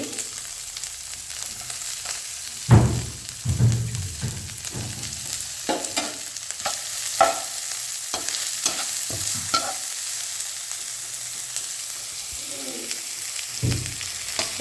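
Onions and chili fry and get stirred for khichuri, a constant hissing sizzle with scraping spatula strokes and occasional louder knocks against the pan, close and without speech.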